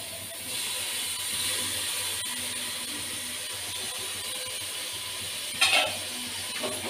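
Tomatoes frying in a pan for chicken biryani, a steady soft sizzle and hiss with a brief scrape of stirring near the end, close and fairly quiet.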